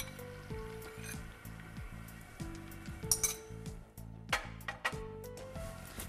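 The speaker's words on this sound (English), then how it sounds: "The butter is soft and melt through. I'm gonna add my eggs." Eggs frying in melted butter in a pan for a breakfast omelette, a steady close sizzle running throughout with occasional light clinks of a utensil against the pan.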